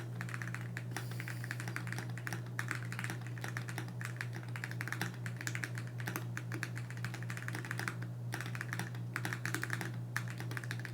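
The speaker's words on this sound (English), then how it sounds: "the keys feel great when you press on them. It also doesn't sound too loud at all" RGB mechanical keyboard typing clacks in quick, uneven bursts over a low steady hum in a home office, moderately loud and close, with no talking.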